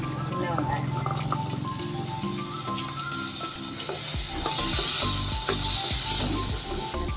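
Tomatoes sautéing in oil in a pan with ginger, garlic, onion, shallots and curry leaves, giving a steady close sizzle with occasional scraping stirs that grows louder midway, all without speech.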